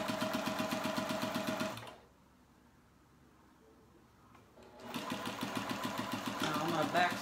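A sewing machine stitches four-patch baby quilt pieces in a steady, fast motorized whir, pausing for a few seconds of near quiet before resuming at the same close, even rhythm.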